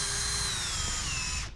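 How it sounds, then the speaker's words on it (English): A power drill bores into a lamp base with a loud, steady whine whose pitch sinks slightly under load, running continuously before cutting off abruptly. "adjust where I'm drilling, go in another inch"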